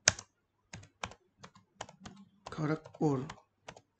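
Computer keyboard typing into a web browser, quick bursts of sharp key clicks spaced through the stretch, close and clear, with a person speaking briefly in the middle.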